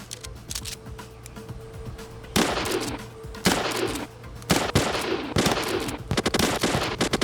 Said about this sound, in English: To scare the bears away without harming them, Sid uses a shotgun.